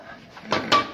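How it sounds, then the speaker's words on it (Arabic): A dog's food bowl struck with a piece of wood to make a deliberately annoying noise: three sharp, close knocks, rising in loudness, over a quiet background. "وتخبط عليها مثلا بالخشبة بحيث ان انا ببقى عامل صوت ازعاج"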